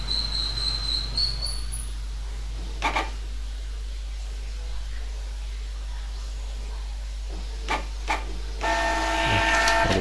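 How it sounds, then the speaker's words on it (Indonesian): A Canon iP2770 inkjet printer, showing error code 5B00, prints a page with a steady low mechanical hum, occasional clicks and knocks, and a louder whirring feed near the end. "ini tahap proses mencetaknya"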